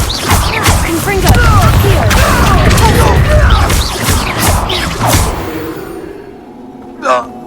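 Confringo fire-blast spells burst in Hogwarts Legacy, loud crashing impacts and booms layered over a dense battle din with shouted voices, fading out near the end before a brief voiced cry.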